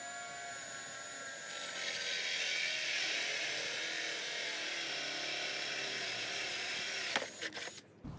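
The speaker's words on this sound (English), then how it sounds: "I'm using a 1 1/4 inch hole saw, and this will drill a hole right into the" A 1 1/4 inch hole saw bores an entrance hole through the wooden front of a birdhouse, a steady close whining drone that holds for about seven seconds before breaking up into brief bursts as the cut finishes.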